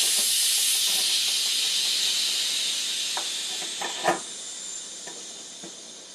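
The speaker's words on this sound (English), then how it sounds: "It's been 10 minutes, now we can release the pressure." Steam hisses steadily from the pressure release valve of a Crock-Pot Express multi-cooker after cooking rice, a loud broadband rush that slowly fades, with a few faint clicks and taps near the end.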